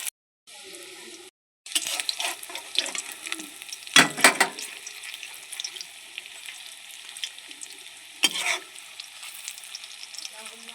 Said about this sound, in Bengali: নিয়ে এবার পকোড়াগুলো ভেজে নেব